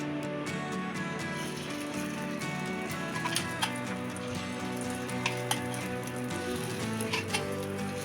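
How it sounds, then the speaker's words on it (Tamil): Beaten egg hits hot oil in the cups of a paniyaram pan and sizzles in a continuous hiss, with a few sharp pops and spatters scattered through the second half. "எண்ணெய் சூடானதும் நம்ம அடித்து வச்சுருக்கிற முட்டையை இதில் ஊற்றிக்கலாம்."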